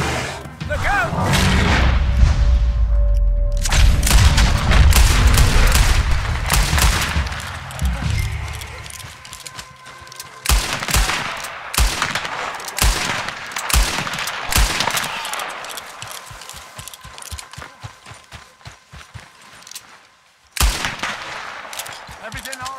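Gunfire in Red Dead Redemption 2 rings out amid a deep rumbling blast, followed by rapid sharp shots in irregular volleys, some clustered, loud and close, with shouting voices among them.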